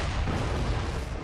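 Cannon fire in Sekiro, a dense, loud rumbling blast that fills the whole short stretch with low-heavy noise, with no talk over it.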